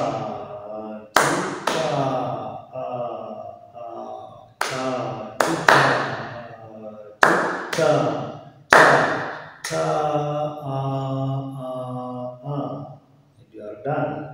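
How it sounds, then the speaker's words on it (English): A single person claps a dotted rhythm during a music lesson, sharp close hand claps in short uneven groups separated by sung or spoken rhythm syllables. "you have to clap it as we did in our previous dotted rhythm clapping"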